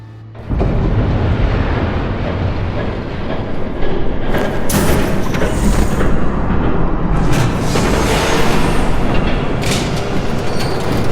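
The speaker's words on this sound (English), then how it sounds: "There's a train coming." A train rumbles past in the Batman Telltale video game, a loud continuous roar with heavy low rumble that swells midway and holds steady throughout, with no talking.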